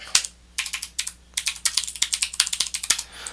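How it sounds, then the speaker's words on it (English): Rapid typing on a computer keyboard as a debugger command is entered, a steady run of crisp close key clicks with brief pauses, loud and alone without talk. "If I type info registers, or IR for short,"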